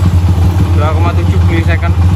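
A fuel-injected motorcycle engine idles close by, its low rumble steady as the revs begin to fall, while someone talks over it throughout.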